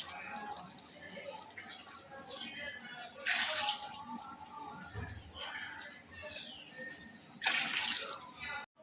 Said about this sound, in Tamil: ஒரு பதினாறு டம்ளர் தண்ணி சேர்த்துக்கலாம்